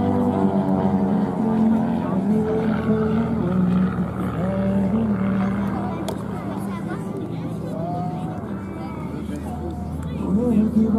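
A 260-horsepower propeller aerobatic plane engine drones loudly and steadily at an air show, its pitch wavering slightly, with a crowd murmuring underneath.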